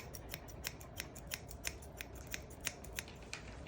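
Grooming scissors trimming the tail tip of a Scottish Terrier, a quick, evenly spaced run of about a dozen crisp close snips over a low steady background, no talking.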